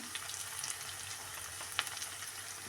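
Spices such as turmeric and chili powder frying in a pan for a taro root curry, a steady soft sizzle throughout with a few faint scraping stirs, close and fairly quiet.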